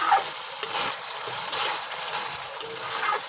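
Spice paste frying in a pan with a splash of water added, a dense continuous sizzle and bubbling hiss with occasional sharp spatters, close and steady without any talk.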